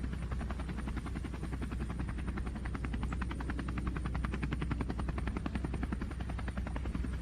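A DJI Mini 2 drone flies at altitude with a steady, faint, high buzzing whine. The rotor hum stays constant throughout and no one speaks.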